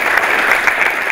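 A brief burst of steady audience applause, loud and dense, lasting just over a second.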